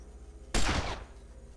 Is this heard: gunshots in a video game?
yes